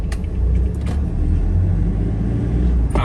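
A Toyota Hiace Commuter van drives along, a steady low engine and road rumble heard from inside the cabin, with a brief bump or rattle near the end.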